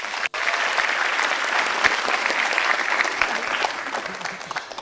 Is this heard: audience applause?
yes